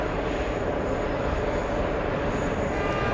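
A fixed-wing airplane's engines roar steadily and loudly on takeoff, a dense, continuous broadband rush with no talking.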